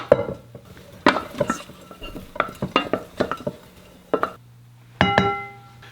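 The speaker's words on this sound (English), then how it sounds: "So now we're just going to add the quinoa to our bowl." Warm quinoa is spooned into a salad bowl, making a string of soft scrapes and taps of a utensil against the bowl, close by, ending in a louder clink.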